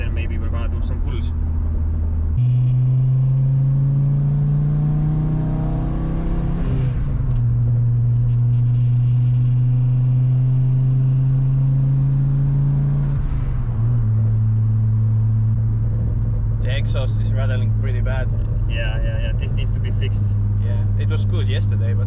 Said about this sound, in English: let's warm up the engine, do some highway driving, and then maybe we're gonna do some pulls